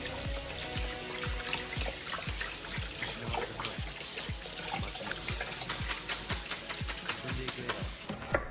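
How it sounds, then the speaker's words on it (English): Cold water runs and splashes steadily from a tap while rinsing stinging nettle, a continuous hiss with rhythmic low thumps and clatter beneath it, fairly close. "Run through the cold water"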